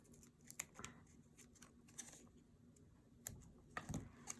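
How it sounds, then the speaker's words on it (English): Scissors trim craft material for a donkey bag topper: a few short, crisp snips scattered over a quiet room, the clearest pair near the end, with no talking. "so I'm going to trim that a little bit"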